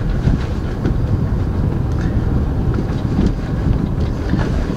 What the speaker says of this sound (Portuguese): Vamos dar uma volta com a Beamer.